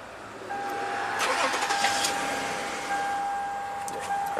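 Lexus RX350 V6 after an engine swap, cranking on the starter: a steady mechanical churn close up with a faint whine running throughout, without catching.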